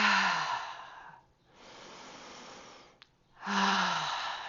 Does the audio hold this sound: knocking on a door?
no